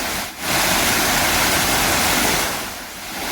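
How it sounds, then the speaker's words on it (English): Water splashing in a fountain at the centre of a quiet, recovering town, a steady, loud, close broadband rush of falling water that continues throughout without talk. "The splashing of water at this fountain at the center of the town is a reminder of what life used to be here"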